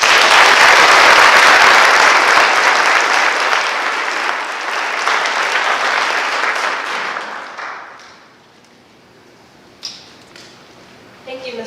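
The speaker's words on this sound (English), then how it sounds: "let's give them a round of applause" A high school National Honor Society induction audience applauds the new class, loud sustained crowd clapping for about eight seconds that fades out, followed by quieter room noise and a few isolated knocks.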